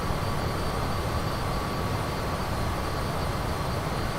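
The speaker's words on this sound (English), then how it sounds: "So where is that airplane going?" Simulated airliner traffic passing in Microsoft Flight Simulator 2020 gives a steady, unbroken engine roar with constant loudness and no talk.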